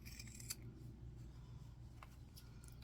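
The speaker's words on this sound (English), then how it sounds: "I'm going to take my scissors, and where I have this excess seam at, I'm going to cut that off." Fabric shears snip away excess seam on a Simplicity 3522 dress with an applied collar, a few quiet close cuts with one sharper snip, set against a steady low room hum.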